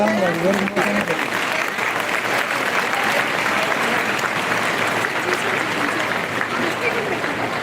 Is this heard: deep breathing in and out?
no